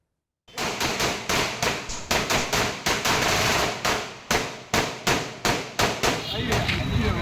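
Firecrackers set off along the route by alliance party workers welcoming a Tamil Maanila Congress election candidate on a campaign tour: a loud, close string of sharp cracks bursting in rapid, uneven succession for several seconds.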